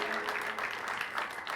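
An audience applauding at a graduation-themed moment; steady, dense clapping from many hands throughout, moderately loud and fairly close, with no talking over it.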